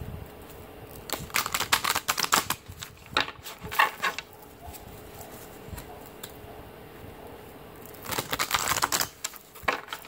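Oracle tarot cards being shuffled by hand, quick papery riffling bursts in several clustered runs separated by quieter pauses, close and crisp, with no voices.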